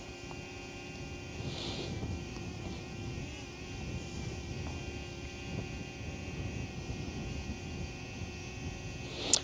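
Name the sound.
DJI Flip drone flying in a circle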